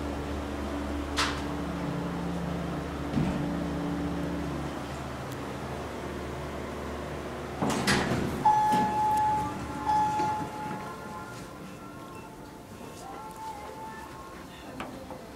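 A Montgomery G&P hydraulic elevator in a JCPenney store at Southridge Mall runs with a steady low motor hum and fan-like hiss, swelling with a clunk near the middle before a thin whine sets in as it travels.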